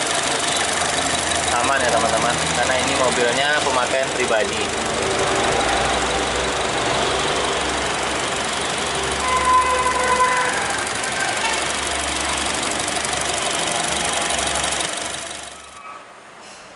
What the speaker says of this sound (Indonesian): Jadi suara mesin ini halus